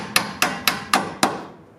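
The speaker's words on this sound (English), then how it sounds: "I like to use a little hammer and just kind of hit" A small hammer strikes the upper control arm area of a 1997–2001 Honda Prelude's suspension during a shock and spring job, five sharp metallic blows at a steady rhythm, close and loud, with no talking.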